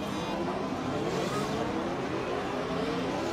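Formula One race car engine from the F1 2020 game, a dense continuous high-pitched whine climbing and holding steady as it runs through the gears, loud and close throughout.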